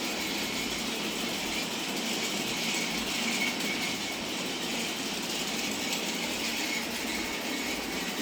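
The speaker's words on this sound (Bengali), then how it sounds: "ট্রেন চলছে" A battery-powered toy train runs along its track with a continuous whirring, ratcheting gear clatter, close and steady from start to finish, with no voices over it.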